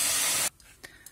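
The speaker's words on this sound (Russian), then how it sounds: "Добавляю 50 грамм воды" About 50 grams of water is poured into a pot of pears for apple and pear jam, a brief loud splashing hiss that stops abruptly, followed by faint clinks.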